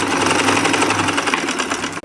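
A sewing machine runs steadily, stitching a folded dart on the front of a blouse. The close, loud motor whir and needle chatter continue alone before cutting off abruptly near the end.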